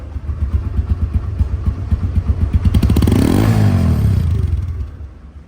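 A motorcycle engine runs close by with a rapid, throbbing putter that builds into a louder rev, then settles and eases off toward the end.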